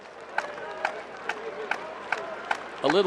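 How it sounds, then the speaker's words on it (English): A stadium section at an Orioles vs White Sox baseball game claps in a steady, evenly spaced rhythm. A voice cuts in briefly at the end. "When they clap, usually it's strike 3, that section"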